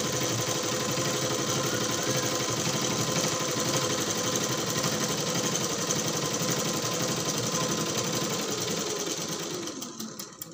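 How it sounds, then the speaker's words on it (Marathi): A sewing machine stitches a three-quarter blouse sleeve in a steady, close, continuous whir that runs for about ten seconds, then slows and stops near the end. "आपण या बाजूने शिवून घेतले"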